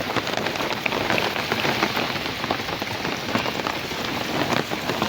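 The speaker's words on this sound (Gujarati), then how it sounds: "હવે આવ્યો જોરદાર વરસાદ." Heavy rain pours down steadily over cotton fields filling with water, a dense, loud hiss of drops drumming on surfaces with no pauses.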